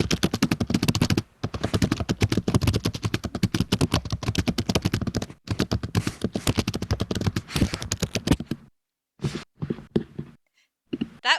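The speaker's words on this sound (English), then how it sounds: "Keyboard smash?" Very fast typing on a computer keyboard, a dense, rapid clatter of close keystrokes running for several seconds with brief pauses, then thinning into a few scattered bursts near the end.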